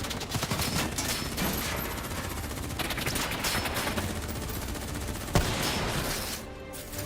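Dense, sustained automatic gunfire in the shooter game Call of Duty Black Ops 3, a loud continuous rattle of overlapping rounds with one sharper crack near the end and no speech.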